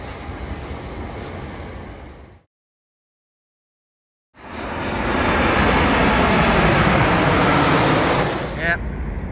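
Airplane passing low overhead under the flight path near Gatwick airport, a loud, broad jet roar that cuts out briefly and then returns steady and strong, with faint talk mixed in.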